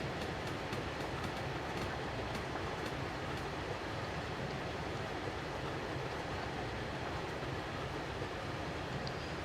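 A train in the Roblox game rolls into a station and slows, with steady, dense rumbling and faint rhythmic clicks throughout, no speech.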